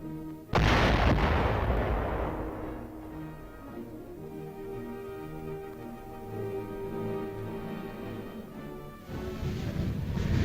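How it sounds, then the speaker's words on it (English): A bomb detonated in a military training demonstration: one sudden, loud, deep blast followed by a long rumbling decay, with another broad burst of noise near the end. "Finally, the bomb is detonated."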